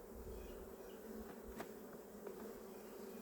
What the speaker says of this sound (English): See, they're already fanning the entrance.